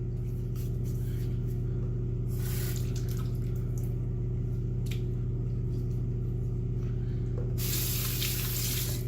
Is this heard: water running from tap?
yes